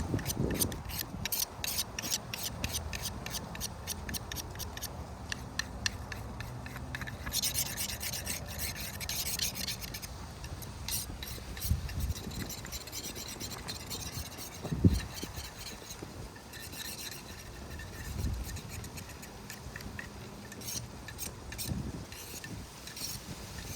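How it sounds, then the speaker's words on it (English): Continuous rasping scrapes of metal on metal as a knife blade is sharpened repeat in steady strokes, close and fairly loud, with a few sharper scrapes mixed in. "I'll be quiet so you can hear I'm actually touching metal to metal."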